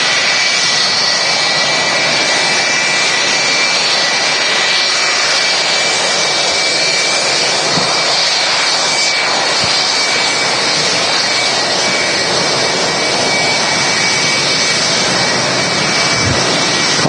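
Boeing 757 jet airliner engines at Manchester Airport, a loud, steady broadband roar with a high whine running through it, sustained without letup and close, with no talking over it.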